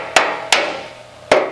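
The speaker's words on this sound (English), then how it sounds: "now we're trying to just knock this down a little bit. I got this radiused hammer." A radiused hammer strikes a metal panel over a dolly three times while a Jaguar E-Type bonnet is shaped, each blow a sharp, loud metallic crack with a short ringing decay, close and uneven in spacing.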